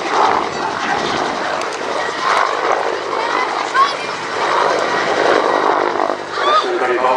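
Westland helicopter engine running at an airshow, a steady loud broadband roar and whine that holds throughout, continuous and close, with faint voices beneath it.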